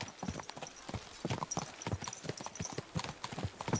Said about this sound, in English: That is a very lovely horse Hans has.